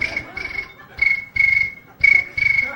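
A voice imitates cricket chirping in short, shrill, high-pitched bursts, about six chirps grouped in pairs with brief gaps between them, loud and close.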